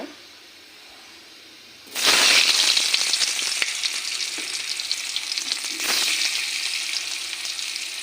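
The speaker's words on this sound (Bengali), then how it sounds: "হলুদ নুন মেখে আলু আর হলুদ আর নুন মেখে আলুটি ভাজা করে নেব" Potatoes coated in turmeric and salt hit hot oil in a kadai with a sudden loud sizzle, after a quiet moment, then keep up a steady close crackling hiss with a brief surge midway.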